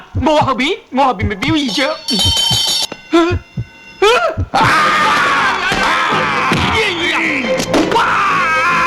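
A film scene with a commissioner crying out in pain while stepping on Père Ren's neck: sharp vocal yells and groans, then a dense, sustained burst of loud screaming and commotion that runs to the end.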